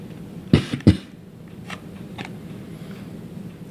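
Two sharp coughs close together near the start, then a faint throat sound and quiet room noise.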